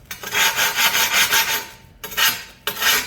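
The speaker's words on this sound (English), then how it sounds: "now you come back with the sanding tool, take the rougher edge" A sanding tool rasps along the rough cut edge of a porcelain tile in several close, steady strokes, with short gaps between passes.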